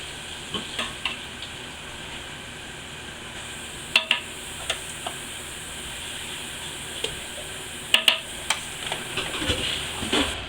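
Gentle stirring of vegetables into a simmering green tomato relish mixture, with soft bubbling and steam hiss, punctuated by occasional clinks of a utensil against the pot.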